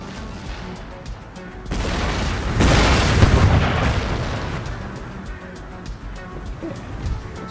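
Heavy booming volleys of 3-pounder cannons in Empire: Total War, a loud burst of overlapping blasts swelling into a rolling barrage, with sharp crackling reports scattered throughout.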